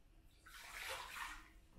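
Liquid is poured into a container while making a madder rose lake pigment, a soft continuous splashing pour that swells and fades over a couple of seconds, with no talking.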